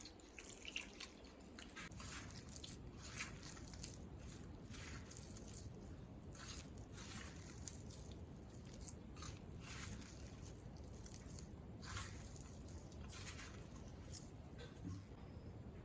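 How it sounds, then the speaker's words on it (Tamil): Spinach bonda batter being kneaded by hand while water is added bit by bit, giving soft, wet squishing and dripping sounds that run steadily throughout at close range. "கொஞ்சம் கொஞ்சமாக தண்ணி ஊற்றி பிசைஞ்சிப்போம்"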